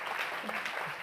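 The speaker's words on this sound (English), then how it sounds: "Again, a round of applause" An audience applauds at a food-industry annual event, a dense, steady wash of clapping held at an even level for about a second, with no voices over it.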